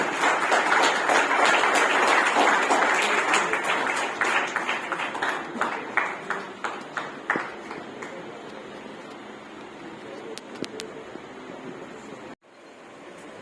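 Audience at a birthday commemoration function in Navalgarh clapping loudly together, a steady wash of applause that gradually thins into scattered individual claps and dies away.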